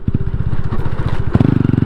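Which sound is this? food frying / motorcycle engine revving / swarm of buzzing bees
motorcycle engine revving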